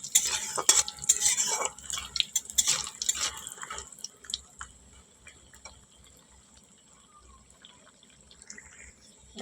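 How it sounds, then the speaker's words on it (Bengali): Lentil dumplings (bori) sizzling in a pan of hot oil for a vegetarian bottle-gourd ghonto, with scraping stirs and clinks of a spatula, loud over the first few seconds and then settling into a faint steady fry. "বড়িগুলো একটু লাল করে ভাজা হবে।"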